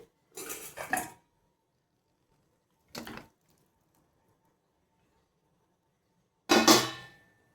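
Potatoes go into a pot of tamarind curry, making three separate bursts of metal clatter and scraping against the pot, separated by silence.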